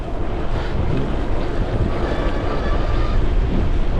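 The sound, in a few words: wind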